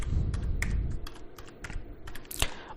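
Fingers type on a computer keyboard in MS Word, a close, irregular run of crisp key clicks with small pauses and one sharper keystroke near the end.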